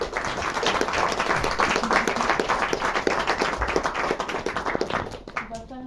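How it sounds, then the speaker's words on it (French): An audience applauds at a film discussion screening, steady dense clapping throughout that thins and fades near the end, with some faint voices underneath. "Je ne vois pas du tout pourquoi vous m'applaudissez"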